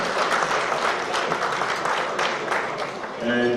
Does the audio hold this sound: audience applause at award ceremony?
yes